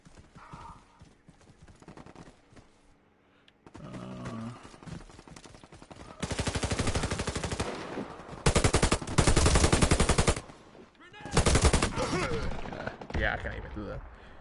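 A submachine gun fires in rapid full-auto bursts in the shooter game Warface, with loud rattling strings of shots that start and stop, and a voice talking quietly early on.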